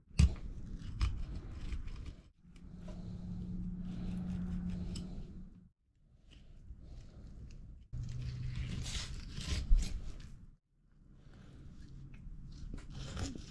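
Kitchen scissors snip through fish fillets from a 16-inch catch in repeated long, crunchy cutting bursts separated by short pauses, close up and fairly loud, with no speech.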